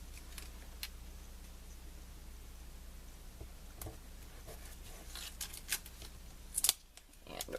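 Scissors snip a small piece of camera-print washi tape at a scrapbooking desk, a few faint, quick cuts near the end of an otherwise quiet stretch.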